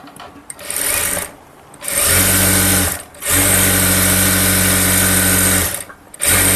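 A sewing machine stitches piping onto a blouse sleeve in loud, close bursts of rapid humming whir, three long runs separated by brief pauses, with no talk.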